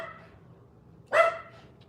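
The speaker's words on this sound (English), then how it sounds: "he's barking because he wants food" A dog wanting food gives a single short, sharp bark after a quiet stretch, close and clear, with a faint whine trailing off afterwards.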